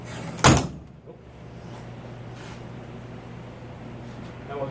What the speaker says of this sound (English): Back on, we'll close the door.